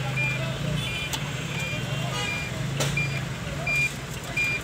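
Reversing beeps from a modified 2020 Toyota Innova Crysta in reverse gear: a steady run of short, evenly spaced electronic beeps over a low engine hum, with voices talking in the background.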